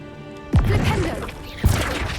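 Flipendo knockback spells landing in Hogwarts Legacy, two sharp thumping impacts about a second apart, each followed by a brief rumbling crash, close and loud.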